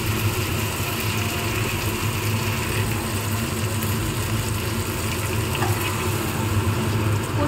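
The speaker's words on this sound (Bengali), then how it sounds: "আলুটা দিয়েও খানিকটা কষিয়ে নিয়েছি" Potatoes with bay leaf sautéing in a pan, a steady, fairly loud sizzle with faint stirring scrapes throughout, over a low continuous hum.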